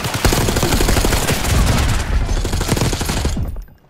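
Rapid automatic gunfire rattles nonstop in the Call of Duty Black Ops 6 campaign, dense loud bursts layered with booms for several seconds before cutting off abruptly.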